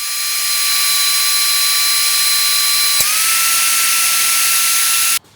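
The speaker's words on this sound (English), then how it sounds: "you can see how quickly and smoothly everything operates with this mag drill" Magnetic drill boring holes in a steel post bracket: a loud, steady high-pitched motor whine that holds for several seconds, dips in pitch briefly as the cutter bites, then cuts off abruptly at the end.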